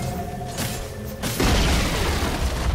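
A tower collapsing in the Dota 2 video game, heard as a loud, low boom that swells about halfway through and carries on as rumbling destruction after a busier stretch of game sounds.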